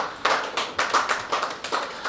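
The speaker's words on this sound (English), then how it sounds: "Please let us give him a warm round of applause." A few pairs of hands clapping in a loose, uneven rhythm, close and fairly loud, with no talking.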